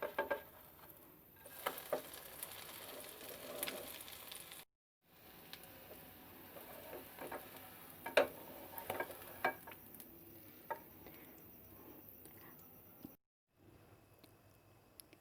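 A keema and egg omelette mixture fries gently in hot oil over moderate heat, giving a quiet, continuous sizzle with scattered small pops and crackles and one brief silent gap.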